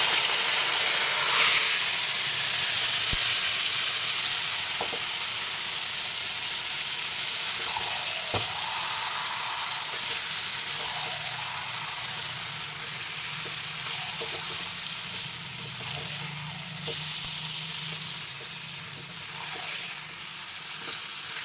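Marinated mutton sizzles steadily in a hot pan, a dense continuous frying hiss with occasional soft clinks and stirring scrapes, close and fairly loud throughout with no voices.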